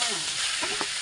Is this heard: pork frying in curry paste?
yes